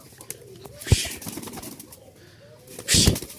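Red and black tumbler pigeons give low, soft coos close by, with two brief bursts of wing flapping, one near the start and a longer one near the end.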